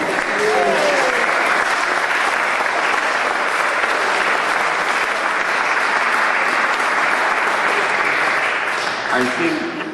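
Loud, sustained applause from a large crowd at an anniversary dinner fills the whole stretch without letup, dense and even, fading slightly only at the very end.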